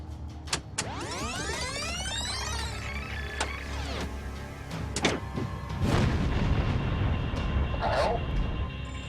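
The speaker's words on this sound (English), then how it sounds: "Can we hear that explosion again?" Explosion recorded on an aircraft cockpit audio tape, a dull boom among cockpit noises, rising whines and clicks, with a rumbling surge of noise in the latter part.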